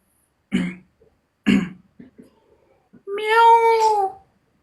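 A child imitates a cat's meow with one drawn-out, wavering vocal cry near the end, preceded by a couple of short throaty bursts and bits of breathy vocal noise.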